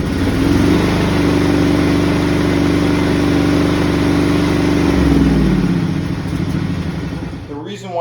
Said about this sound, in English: this John Deere runs then dies when the choke is turned